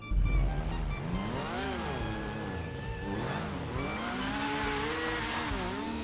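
A motorcycle engine in GTA V Online revs and drones steadily, its pitch rising and falling as it accelerates, loud and continuous with no talk over it.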